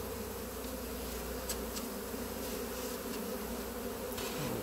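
A swarm of honey bees settled into uncovered hive equipment buzzes in a dense, continuous drone, close and steady, with a few sharper clicks and knocks over it and no talking.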